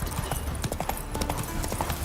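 Roach, a horse in the video game The Witcher 3, galloping with rapid rhythmic hoof clip-clops at close range, continuous and fairly loud over a busy game soundscape.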